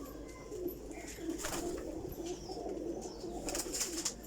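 A group of Teddy Golden Kasuri pigeons keeps up a close, continuous low cooing, rhythmic throaty rolls layered over one another, with scattered light rustling and faint chirps and nobody speaking.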